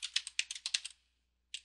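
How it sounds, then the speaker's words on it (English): Quick bursts of keystrokes on a computer keyboard as a file name is typed, a rapid run of clicks for about a second, a pause, then one last key press, close and clear. "let's type this"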